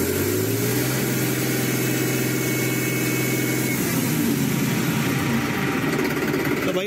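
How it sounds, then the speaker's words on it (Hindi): A New Holland 3630 tractor engine revved to high RPM, a loud, dense, continuous roar heard close up at a steady pitch without speech. "पूरे हाई RPM करके देखते हैं कि इसके कंपनी से कितने RPM आते हैं।"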